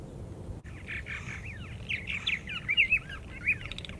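Purple martins in the desert chirp and warble in quick, gurgling bursts at moderate distance over a low, steady background rumble.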